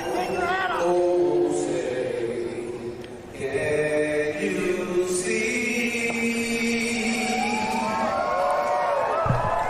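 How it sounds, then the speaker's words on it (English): A crowd at an event cheers and whoops while Flava Flav sings the national anthem, the roar of the crowd sitting under his sustained, wavering vocal notes and staying audible throughout. "I love how everyone's cheering."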